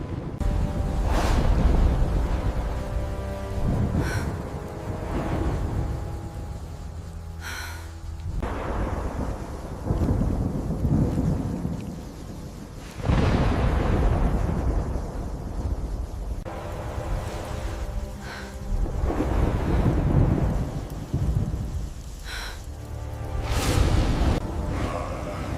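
Wind and rain sweep through a forest in a steady, loud storm roar. Deep rumbling swells rise and fall every few seconds, like distant thunder or gusts, and no voices are heard.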